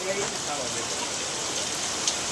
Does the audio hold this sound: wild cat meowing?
no